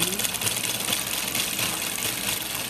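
Steady mechanical whir and rapid chatter of a sewing machine stitching close beside an invisible zipper, running continuously at an even pace with no pauses.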